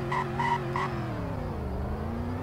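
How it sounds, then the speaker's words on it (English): A front-wheel-drive car in the Roblox Greenville video game does a burnout: three short tire squeals over a droning engine note that slowly shifts in pitch, steady and fairly loud, with no talking. "Oh, I'm like doing a burnout."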